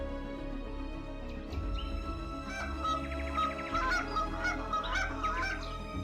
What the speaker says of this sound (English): The distinctive V formations of migrating Canada geese have become common sights and sounds along